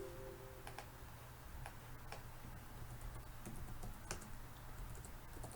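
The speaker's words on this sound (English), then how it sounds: "Typing left-handed is awkward." Left-handed typing on a computer keyboard, heard as sparse, irregular clicks of single keys at a moderate distance over a steady low hum, with no voices.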